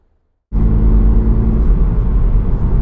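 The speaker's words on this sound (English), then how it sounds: "we're going down the road in this 2024 GR86 base with the 6-speed manual transmission" A 2024 Toyota GR86 base with the 6-speed manual starts moving after a brief silence, then a loud, steady engine and road rumble fills the cabin without talk.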